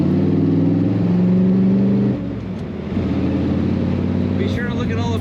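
A 1969 Chevrolet Corvette convertible with a 454 V8 idles with a deep, steady exhaust rumble close by, the pitch dropping slightly partway through, while someone talks over it.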